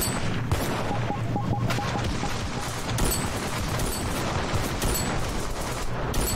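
Heavy autocannon fire in the video game Ravenfield, with dense rapid booms and blasts blending into a loud continuous barrage of battle noise.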